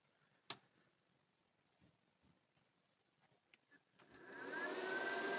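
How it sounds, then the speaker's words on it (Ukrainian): A HOULI 5000W 48V pure sine wave inverter switches on after a sharp click and a few quiet ticks, ramping up into a steady loud hum and whine that rises and holds over the last second and a half. "Отже, вмикаємо наш інвертор."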